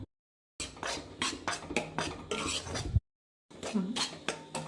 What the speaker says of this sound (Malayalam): നമുക്ക് ഈ ചോളപ്പൊടി ഒന്ന് ചെറുതായിട്ട് വറുത്തെടുക്കാം